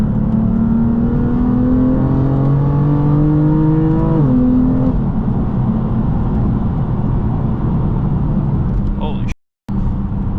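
A stage 2 BMW M4 driven hard on back roads: a loud engine climbs in pitch, drops at a gear change, then holds a strong steady drone, cut by a short dropout near the end, with a voice in the cabin.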